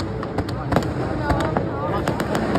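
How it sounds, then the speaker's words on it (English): Fireworks explode outdoors in rapid, irregular cracks and pops, many sharp bursts overlapping over a steady crowd-like background, with people talking underneath. "Fireworks."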